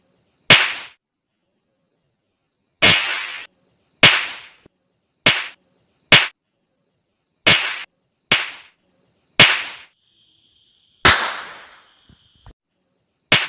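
Small homemade matchstick firecrackers go off one after another, about ten sharp, loud cracks at irregular intervals, each fading quickly into near silence while a thin, faint high-pitched whine lingers in between.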